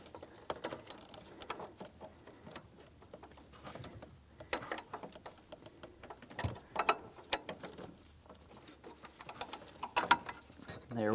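A ratchet wrench works a 16mm power steering line fitting on a 2007-2014 GMC Sierra 2500 HD, producing irregular bursts of quick metallic clicks and clatter mixed with tool handling, close but fairly quiet.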